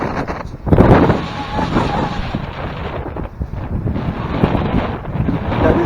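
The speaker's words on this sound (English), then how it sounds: "Very windy." Strong wind buffets the microphone in loud, continuous gusts, roaring and rumbling throughout, on a trail at Stenner Creek, San Luis Obispo, California.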